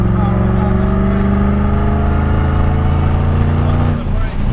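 Mustang Shelby GT500 under hard acceleration on a track straight, a loud, close, sustained engine roar rising steadily in pitch, with a brief dip near the end.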